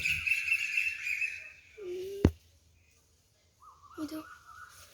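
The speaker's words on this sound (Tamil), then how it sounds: "நிறைய பேர்ட்ஸ் எங்கள் வீட்டு பக்கத்தில் இருக்குது. கீச் கீச் கீச் கீச்சுன்னு நல்லா சத்தம் போதும்." Small birds near a house where sunbirds are nesting give short, high chirps, near and fairly clear at first, then a few sparser calls after a brief quiet gap. A voice speaks faintly in the background.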